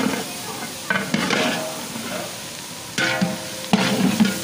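A spoon stirs boiled capsicum in a hot pan for a cauliflower and brinjal curry, giving soft sizzling and frying under a few sharper scraping strokes near the middle and end.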